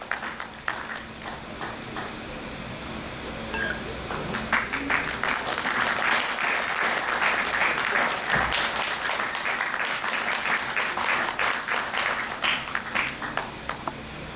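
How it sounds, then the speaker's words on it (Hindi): Audience applause at a Muslim Rashtriya Manch discussion gathering, sparse claps at first swelling after a few seconds into sustained, dense clapping that continues steadily to the end. "जोरदार तालियों।"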